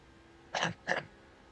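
Two quick, close bursts of throat clearing land right into a microphone during a NASCAR 08 racing game livestream, with quiet background before and after.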